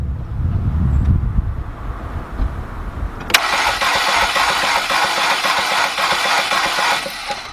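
Volkswagen/Audi engine cranking during a compression test, a steady rapid starter churn that begins abruptly after a few seconds of low rumble, loud and close and continuing to the end.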